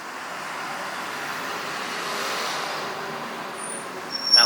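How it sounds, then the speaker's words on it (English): A car passes by outside, a soft broad whoosh of road noise that swells gently and fades, distant and faint, ending with a short louder burst. "Car."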